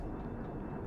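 A-7 attack aircraft flying over the coastal waters in the naval combat game Sea Power, a steady, dull engine roar for under a second with no distinct events.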